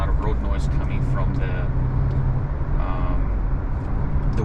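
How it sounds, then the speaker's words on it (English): Steady broadband road and tire roar inside a 2023 Subaru Crosstrek Sport cruising at highway speed, a continuous low rumble with wind hiss that stays constant throughout, with a person talking over it. "I hear a lot of road noise coming, you know, from the sides"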